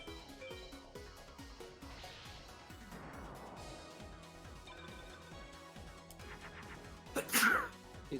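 A single sharp, loud sneeze comes near the end. It stands out against quiet electronic game music that plays throughout.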